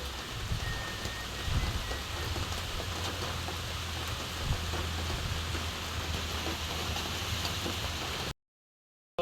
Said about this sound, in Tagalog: dito po ay malakas ang ulan.